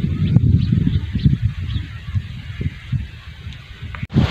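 Birds call in a village on a fresh morning, honking, goose-like cries repeating over low rustling and wind, fairly near and steady with no talking.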